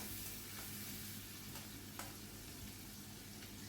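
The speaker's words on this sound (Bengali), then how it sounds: "টমেটোটা একটু হালকা করে আমি এখানে ভেজে নেব।" Chopped tomato fries with spices in hot oil, giving a soft, continuous sizzle with occasional faint stirring clicks, quiet and steady with no talking.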